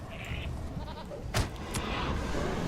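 A demon goat with red eyes in LOTRO's Pits of Udûn, Mordor, gives a nasal bleat, fairly faint, followed by a sharp thump amid soft game ambience.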